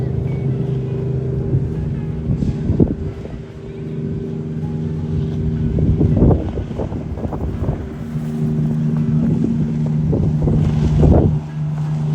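A fast motorboat engine drones steadily under rushing wind and water off Bridlington, UK, with occasional bumps and splashes over waves; the hum persists throughout at moderate loudness.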